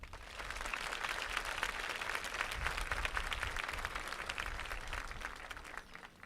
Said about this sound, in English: Would the senior class join me in a grateful round of applause for all of those who we love